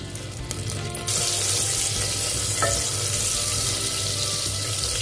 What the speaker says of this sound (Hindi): बटर को मेल्ट होने देंगे।